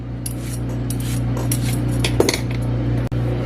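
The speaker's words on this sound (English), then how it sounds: "and then I come and I just start peeling" A carrot being peeled for ham soup, with steady scraping rasps of the peeler against the root, close and fairly loud over a low kitchen hum, with one sharp click near the end.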